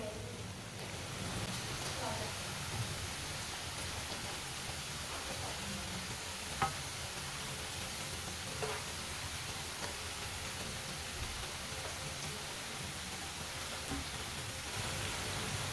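Potatoes fry in a pan over lowered heat, giving a steady, dense crackle at moderate level with a few faint utensil taps as they are turned. A voice is heard faintly at times beneath the sizzle.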